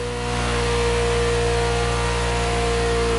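A Ferrari sports car engine in the video game The Crew holds a steady, humming mid-pitched drone with a sustained tonal whine, fairly quiet and even, with no voices over it.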